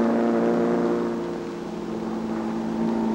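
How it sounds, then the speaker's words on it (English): A 1953 racing outboard motorboat in a marathon on the Fox River drones past at a distance, its steady high-pitched engine whine dipping slightly and then swelling again. "The second D boat streaks past."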